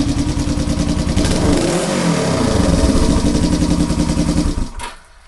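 A kickstarted motorcycle engine revs hard and loud close by, the throttle swelling and easing in one rise, then the engine note drops away abruptly near the end.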